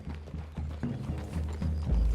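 Horses in the video game Red Dead Redemption 2 clop steadily through a clearing, hooves thudding in a fairly close, continuous rhythm with low rumbling ambience underneath.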